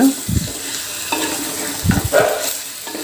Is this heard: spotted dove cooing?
no